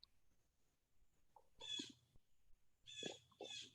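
A bird calls outdoors in two rough, raspy bursts, the second longer and louder, with quiet gaps in between.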